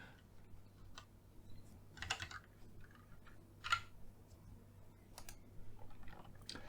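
Typing on a computer keyboard while setting up variables for a DIY keyboard layout and enclosure design, heard as faint, irregular clicks and taps that come in short bursts over a quiet background hum.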